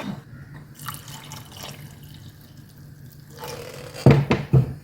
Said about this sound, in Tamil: தண்ணியை ஊற்றிக்கிறேன்